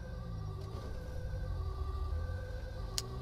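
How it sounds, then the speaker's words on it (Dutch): A GTA 5 ambulance from the EMS mod sounds its siren, steady and fairly faint, over a low engine-like hum. One short click comes near the end and no one speaks. "Het is deze sirene, ik weet niet eens waar die vandaan komt."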